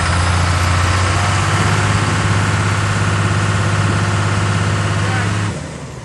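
A John Deere wheel loader's engine, reportedly suspected blown and leaking coolant, idles steadily and loudly up close with a strong low drone, easing off slightly near the end.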